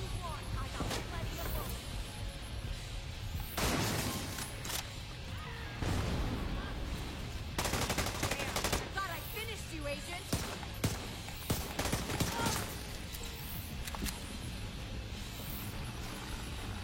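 Video game gunfire sounds in bursts of sharp cracks and thuds amid a steady game soundscape, with heavier volleys clustered at intervals and scattered single impacts.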